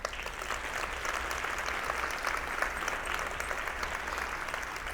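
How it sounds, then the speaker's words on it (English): An audience at a school district breakfast applauds, a steady dense wash of many hands clapping heard from across a large room, sustained throughout at moderate level. "Applause to all of you."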